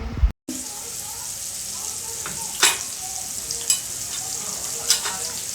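Tomatoes cooking down with salt in a pan for kadhi, a steady close sizzle with occasional spoon stirs and scrapes, after a brief cut at the start.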